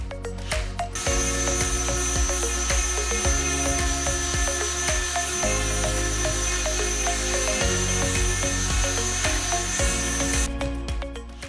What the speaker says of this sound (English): I sanded all the boards with 120 grit sandpaper using my orbital sander.